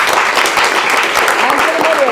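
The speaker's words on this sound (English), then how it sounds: "a big applause for the panelists" A crowd applauds steadily, a dense wash of clapping hands at full strength from start to finish.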